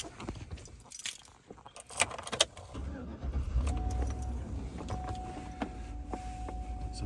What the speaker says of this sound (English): Let me start the car so you see.